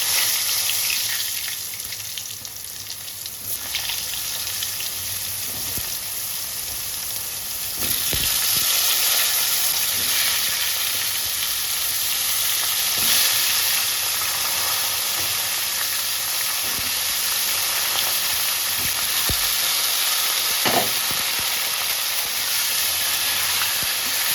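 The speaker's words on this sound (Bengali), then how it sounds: "পটলগুলোকে ডিপ ফ্রাই করে দেবো" Pointed gourd (potol) deep frying in hot oil in a Bengali kitchen, a steady broadband sizzle and hiss running the whole time with a few brief pops, close and fairly loud with no talking.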